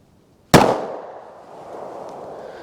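A single sharp 9mm pistol shot from a SIG P365 with a 3-inch barrel, firing Steinel solid copper hollow point ammunition, cracks loudly after a short silence and rings out into a fading outdoor echo.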